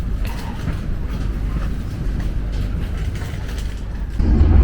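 A KA Gumarang business-class passenger train runs at speed, roughly 95 km/h, between Bojonegoro and Surabaya, giving a steady close rumble and rail noise from inside the carriage that swells louder at the very end.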